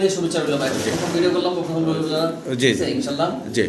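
A male Lahori pigeon coos softly in a loft among other pigeons, a few low throaty calls heard beneath someone talking throughout.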